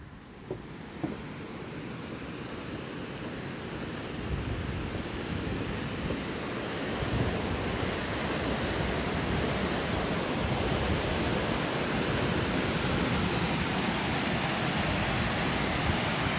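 Water of the Pine River near Alma, Michigan rushes in a steady, loud broadband wash that fills the whole clip without a break, close by and with no voices.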